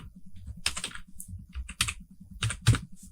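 Computer keyboard keys tapped in quick irregular bursts while a folder name is entered on a desktop, crisp close clicks with short pauses between groups.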